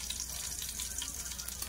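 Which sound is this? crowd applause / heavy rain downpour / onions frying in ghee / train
onions frying in ghee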